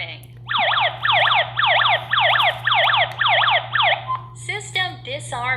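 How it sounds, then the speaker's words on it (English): A home alarm system siren sounds close and loud in repeated rising-falling electronic sweeps, about seven in a row, followed by a few shorter chirps and synthesized voice tones. "I should be able now to separate this and set off the alarm."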